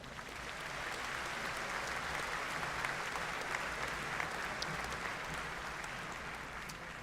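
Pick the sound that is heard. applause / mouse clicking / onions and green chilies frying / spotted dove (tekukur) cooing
applause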